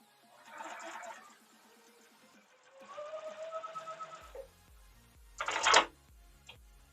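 A sewing machine stitches quilt blocks in short bursts, each a steady whirring run with a rapid mechanical chatter, separated by brief pauses and followed by a sharper, louder clatter near the end.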